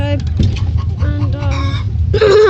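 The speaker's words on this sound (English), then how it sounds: "because of that loud chicken" A loud hen in a backyard coop clucks and squawks in rapid, harmonic bursts that rise into a sharp, prolonged cackle near the end, close and dominant over a steady low background hum.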